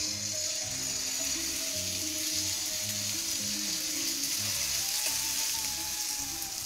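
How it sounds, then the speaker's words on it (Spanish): Chicken fillets fry in a pan with a steady, continuous sizzle and crackle, alongside a few low knocks and scrapes from the pan. No one speaks. "nosotros vamos a poner los filetes a freír"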